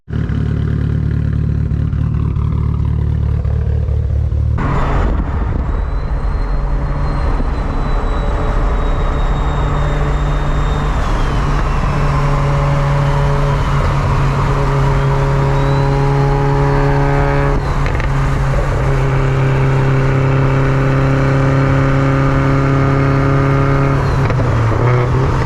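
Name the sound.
Subaru WRX STI accelerating hard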